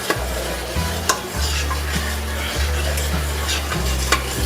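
Pork tenderloin deglazing with a couple teaspoons of soy sauce in a hot pan, a steady close sizzle with a low humming drone underneath and a few sharp clicks of stirring, no talking.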